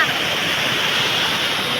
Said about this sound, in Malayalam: നാച്ചുറൽ വാട്ടർഫാൾ ആണ്.